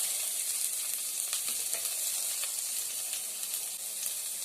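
Ginger, garlic and chopped big onion frying in oil in a kadai give a steady, dense sizzle with a close, continuous hiss and occasional small crackles, no voices.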